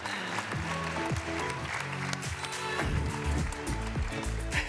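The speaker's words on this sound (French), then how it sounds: "Je vous propose d'applaudir Alexandre Hanbel, associé chez Ava" Audience applause at a French panel event on young entrepreneurs, a steady wash of clapping over loud rhythmic background music with a thumping beat, continuing throughout.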